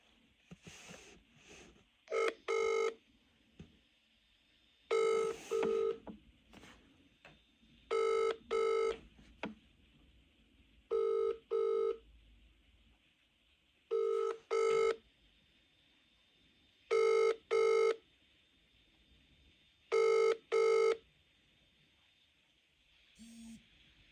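Ringback tone of an outgoing phone call on a recorded line before a mobile voicemail greeting, eight evenly spaced double-pulse rings with quiet gaps between them and no talking.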